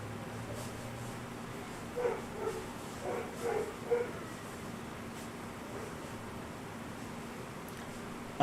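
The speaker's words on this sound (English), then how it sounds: "Now the dog's outside barking at them." A dog in the Farming Simulator 25 video game barks outside in a handful of short, moderately distant bursts over a steady low background hum, with no talking.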